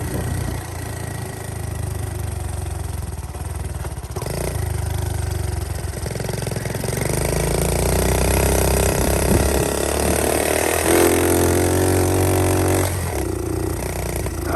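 A Honda Z50K2 minibike engine runs on choke nearby, a rough, uneven single-cylinder idle that rises and falls over about fifteen seconds without any talk.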